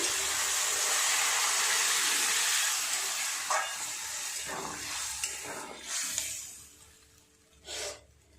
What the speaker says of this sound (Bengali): ঢেলে দেবো ওপর থেকে ডালটা সিদ্ধ করে রাখা ডাল